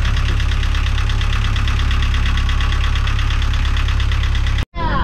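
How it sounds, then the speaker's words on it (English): A commercial crab-potting boat's engine runs loud and close while being adjusted, with a steady throbbing, knocking idle that holds constant before cutting out abruptly near the end and briefly restarting. "having a quick fiddle with the engine"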